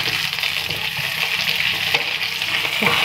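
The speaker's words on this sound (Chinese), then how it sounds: "进去油菜的茎。 大火进行翻炒。" Rapeseed greens stems stir-fried in oil over high heat, a steady loud sizzle with intermittent scraping and tossing sounds of a spatula in the wok, no speech.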